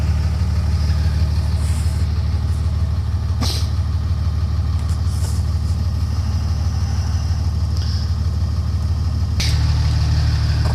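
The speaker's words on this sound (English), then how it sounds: "you can see that that compressor is working because it's filling up this gauge right here" A York 210 onboard air compressor on a 2007 Dodge Ram with a 5.9 Cummins filling a 10-gallon tank runs as a steady loud low drone alongside the diesel truck idling, with a few brief clicks and hisses.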